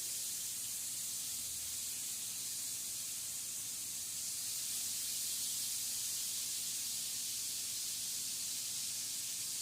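Bacon laid down in a hot pan sizzles in a steady, broad hiss that holds evenly and fairly loud for the whole stretch, with no voices over it.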